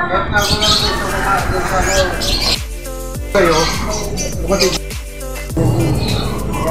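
Pigeons in a loft give busy squawks and coos in irregular bursts, close by, mixed with people talking.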